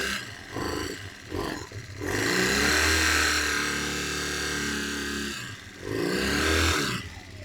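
A Kawasaki ER5 motorcycle engine cranks with a few stuttering turns, catches and runs steadily at idle for several seconds, then is blipped with short revs near the end, loud and close.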